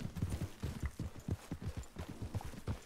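Horse hooves clip-clopping in Red Dead Redemption 2, a steady rapid rhythm of close, loud hoofbeats on the ground throughout, with no talk over them.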